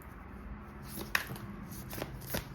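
Tarot cards riffled and shuffled by hand, with a sharp slap near the middle as cards drop out and a couple of softer flicks after, close and quiet with no talking.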